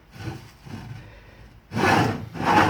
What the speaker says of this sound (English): I'm currently in the process of sanding down this Eddie GT.